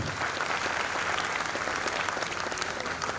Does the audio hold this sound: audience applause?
yes